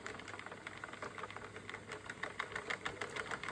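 A domestic knitting machine knits rows of waste yarn. Its carriage runs with a rapid, rhythmic clatter and soft mechanical whir, quiet and steady throughout, with no talking.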